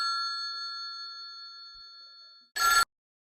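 A phone rings with a sustained electronic tone that fades gradually, then a short, sharp clattering burst cuts in and everything goes silent.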